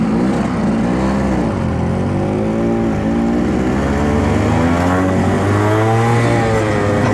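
Suzuki AX 100 motorcycle engine revving up and holding high, a loud, continuous buzzing two-stroke drone with rising and falling pitch, close and alone.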